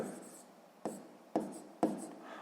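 Pen strokes scratch across paper while a math exercise on fractions is worked out, soft continuous scribbling broken by three sharper taps as the pen lifts and lands, close and quiet with no talking.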